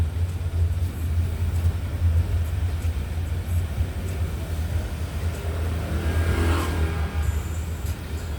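Steady car traffic on a rain-soaked road in Seoul, heard from inside a vehicle as a constant low rumbling hiss with occasional tire swish, continuous and fairly loud, no talking.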